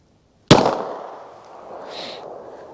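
A single close, loud 9mm pistol gunshot fired from a 4¼-inch barrel with Steinel solid copper expanding hollow point ammunition, a sharp crack followed by a ringing decay outdoors, with a brief faint high hiss after.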